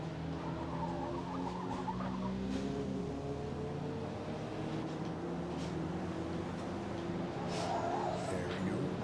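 Racing cars in the Forza Motorsport video game, engines droning and revving steadily with shifting pitch, tire squeals and skids rising briefly, loud and continuous throughout.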